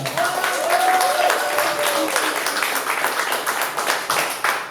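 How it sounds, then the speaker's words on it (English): Audience applause at a live event, with clapping sustained throughout and a voice briefly audible over the crowd. "So let's give her a round of applause"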